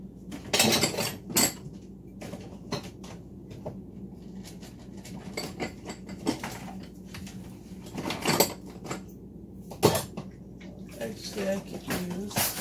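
Teaspoons and cutlery clinking against dishes in a home kitchen while making cookie dough, irregular sharp metallic clatters and knocks, some close and loud, with occasional talking between them.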